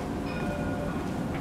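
A Paris T3a tram pulls away at Porte de Choisy, a close, continuous low rumble of rolling rail wheels with faint tonal whine, loud and steady with no talking.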